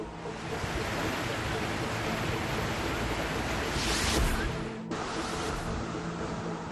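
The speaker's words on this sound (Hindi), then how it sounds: "लातेहार में मौजूद झारखंड का सबसे ऊंचा जलप्रपात लोध फॉल इन दिनों उफान पर है" Lodh Falls in Latehar, Jharkhand, swollen with floodwater after heavy rain, a broad continuous roar of rushing water that swells briefly and cuts off abruptly, then resumes.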